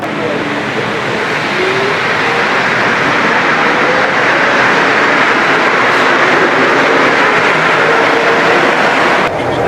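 Loud, steady rumble of a rubber-tyred metro train rolling past nearby in Mexico City, a broad smooth roar with little clatter, continuous throughout.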